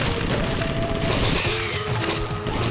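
Rocket launcher blasts boom back to back in the shooter game Critical Annihilation, loud and dense, with crashing explosions overlapping in a constant roar of gunfire and impacts.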